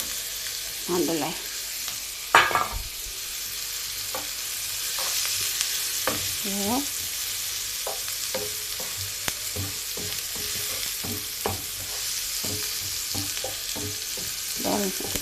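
Chopped baro onion (leek) sizzles steadily in a hot pan alongside red onion while being stirred, with scraping utensil taps throughout and someone speaking briefly over the frying.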